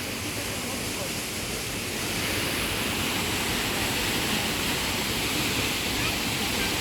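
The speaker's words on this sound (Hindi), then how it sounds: "पानी की आवाज़ बहुत तेज़ है" Loud, steady roar of rushing water from a waterfall in the Yorkshire Dales, a dense continuous wash of sound heard close with some wind buffeting the microphone and no pause throughout.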